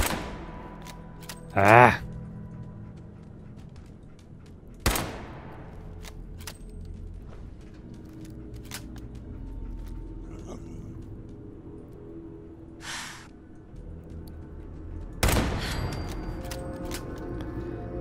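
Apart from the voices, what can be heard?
turret gunfire in Fallout 4 video game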